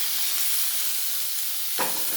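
Eggplant pieces sizzle in hot oil with panch phoron, a close, steady frying hiss that flares briefly near the end as the pan is disturbed.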